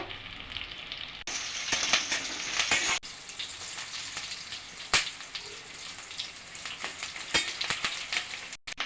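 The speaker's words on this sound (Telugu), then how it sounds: "ఆనియన్ వేసుకొని ఇట్లా బ్రౌన్ కలర్ వచ్చేంత వరకు ఆయిల్లో వేసుకోవాలి" Onion and curry leaves frying in oil, a steady crackling sizzle heard close up throughout, with occasional sharper pops and faint stirring.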